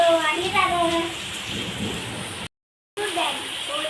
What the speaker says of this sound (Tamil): எவ்வளோ மழை பாருங்க